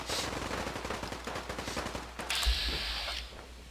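Rapid automatic gunfire in Fallout 4, a steady stream of close, sharp shots in quick succession, then a brief louder burst and a ringing, hissing tail as the firing stops.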